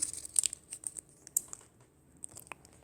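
Paper is folded into an origami mini box, with soft crinkles, creases and sharp little crackles close by, scattered irregularly across a quiet background.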